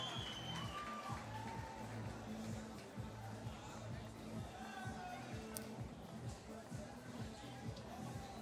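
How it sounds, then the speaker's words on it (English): Crowd cheering and whooping at a beach volleyball semifinal in Brasilia, a steady roar of distant spectators with voices and a commentator talking over it throughout. "Antonelli puts the ball down, the crowd go wild."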